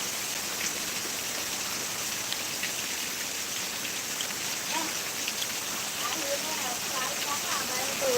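Heavy monsoon rain pours steadily onto a rooftop terrace, a dense, even roar of close drops hitting the surface without a break, with faint voices now and then underneath.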